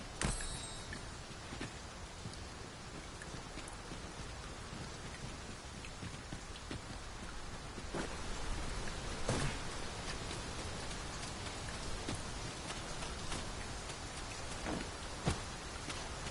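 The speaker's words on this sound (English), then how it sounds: "'Tis raining. Let us find cover." Steady rain falls hard and close, with a dense hiss of drops on surfaces and occasional louder splatters and thumps.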